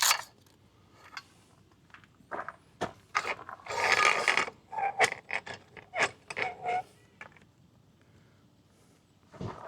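Legs of an OpenRoad 270 free-standing awning being pulled down, giving a string of close metallic clicks, creaks and ratcheting rattles in short bursts with a longer grinding stretch midway, no talking.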